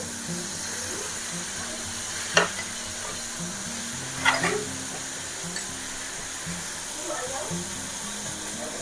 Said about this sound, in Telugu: ఇలా కొంచెం బ్రౌన్ కలర్ వచ్చేంత వరకు ఆనియన్స్ ఫ్రై చేసుకుందాము